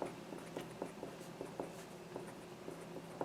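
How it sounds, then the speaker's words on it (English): Chalk or marker writing on a board during a lecture on second-order linear homogeneous differential equations, a series of light, irregular taps and short strokes at close range with no talk. "I'm going to write it down"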